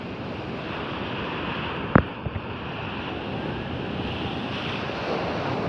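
Monsoon surf breaks along Kapu beach in a steady, broad roar of waves mixed with gusting wind buffeting the microphone, and a brief sharp knock around the middle; no speech.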